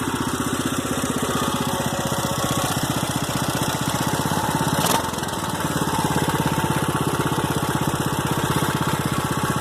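A Briggs big block small engine fitted with a 6.5hp carburetor runs at half choke, a loud, steady close-up chugging idle with an even rapid pulse and a brief dip midway.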